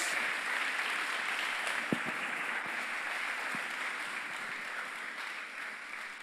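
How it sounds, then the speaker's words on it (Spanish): Church congregation at a Sunday evening service clapping for Jesus, a faint, even spread of applause held throughout, with a few sharper claps standing out near the start. "Den un fuerte aplauso a Jesús entonces por esta palabra."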